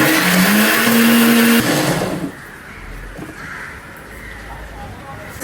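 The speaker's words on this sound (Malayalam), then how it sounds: "തേങ്ങ, ജീരകം, ഉള്ളി അരച്ചെടുക്കാം." A mixer grinder whirs loudly as it grinds coconut, cumin and shallots, running for about two seconds before cutting off into a much quieter background.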